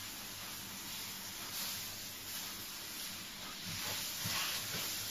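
Rice tipped into a hot pan of sautéed vegetables sizzles with a continuous bright hiss, steady and fairly close, swelling slightly toward the end.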